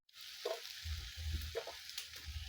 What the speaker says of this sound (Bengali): আমি মশলাকে কষাবো আর এদিকে আমার যে কাঁঠালের সবজিটা আমাদের একসাথে কষিয়ে নিব